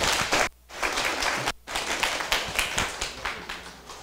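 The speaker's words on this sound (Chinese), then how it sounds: "请大家用掌声欢迎" An audience applauds to welcome a lecturer at the start of a class session, with steady, fairly close clapping briefly dropping off twice before resuming.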